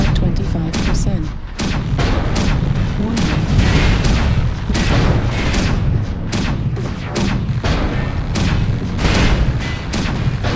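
Missiles exploding around a mech in MechWarrior Online, a rapid string of loud booming impacts and gunfire cracks going on throughout with no pause.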